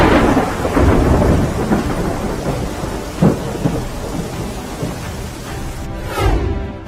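Heavy monsoon rain pours steadily in Gujarat while deep thunder rumbles and cracks roll through the downpour, loud and close.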